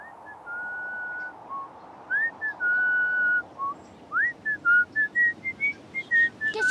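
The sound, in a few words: person whistling the March of San Lorenzo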